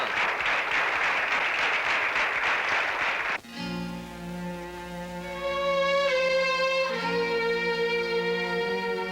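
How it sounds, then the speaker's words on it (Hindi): Crowd applause in a Hindi Bollywood action film scene, dense clapping for about three seconds before cutting abruptly to swelling dramatic music that carries on to the end. "तालियां।"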